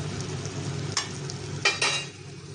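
Chilli powder and turmeric being stirred in a pan for masala paneer, with soft scraping and gentle sizzling, a few sharper spoon scrapes standing out near the end.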